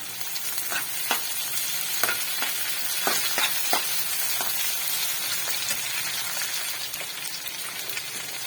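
Tomatoes, curry leaves and chopped knol khol sauté in a hot pan, a continuous close sizzle broken by regular scraping stir strokes, with no voices.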